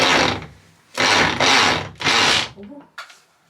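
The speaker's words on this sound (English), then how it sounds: "It's called a hammer drill." Three loud bursts of a hammer drill grinding into a hard surface, each about half a second to a second long, followed by brief quieter rattling.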